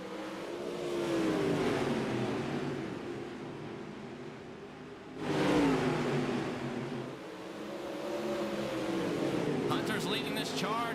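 Dirt late model race car engines in a racing video game at Eldora rise and fall in long revving sweeps, with a commentator's voice heard over the engine drone.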